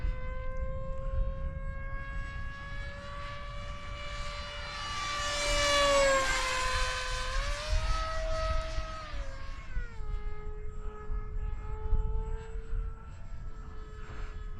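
A small FF-35V2 RC model plane with a 6-inch prop and 24-inch wingspan flies past, its electric motor whine rising in pitch as it nears, then dropping as it pulls away, steady and fairly loud throughout.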